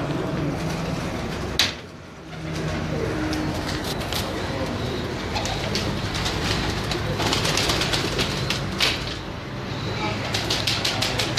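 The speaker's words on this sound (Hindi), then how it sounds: "ये जी खलीफा नवीद साहब के टैडी कबूतर हैं" Teddy pigeons cooing in a loft, with soft repeated coos and rustling of birds, plus occasional clicks and taps, over steady background noise at moderate distance.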